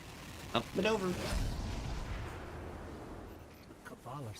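A giant Cabal cannon in Destiny 2 fires a heavy blast that booms out with a deep rumbling tail, amid game sound effects and brief voice-like sounds.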